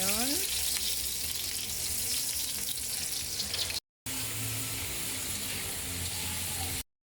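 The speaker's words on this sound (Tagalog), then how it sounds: "Piprito natin sa bawang sibuyas with dairy cream." Squid, shrimp and corn frying with garlic and onion in a pan, a steady loud sizzle that continues with a brief gap, no talking over it.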